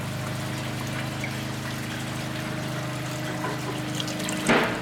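Treated water from a wastewater recycling system drains off a weir onto a paper bed filter beneath a reaction chamber, making a steady, close pouring and trickling wash with a brief louder splash near the end.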